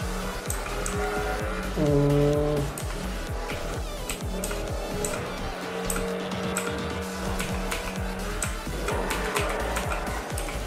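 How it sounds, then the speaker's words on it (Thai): A car races fast through city streets in GTA V on a FiveM server: a steady engine drone with shifting pitch, a brief tire squeal or horn-like tone early on, and clattering road noise, with no voices. "ขับเร็วในเมืองนี่แหละครับ"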